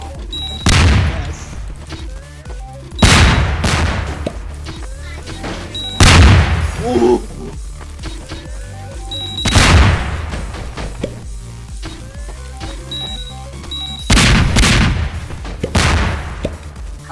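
Bomb explosions in the Garry's Mod game Melon Bomber: a series of heavy booming blasts in irregular bursts a few seconds apart, loud and close, with brief casual talk between them.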